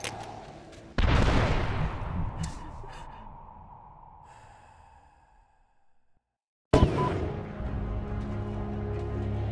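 An explosion in the Medal of Honor video game erupts with a sharp, loud blast that fades into a long decaying rumble, then cuts to silence before another burst of heavy battle noise.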